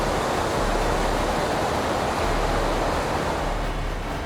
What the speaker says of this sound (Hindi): एक विशाल आकार झरना, द माइटी रिंग वाटरफॉल